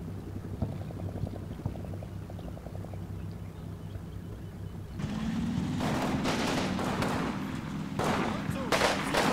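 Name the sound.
soldiers firing guns in a video game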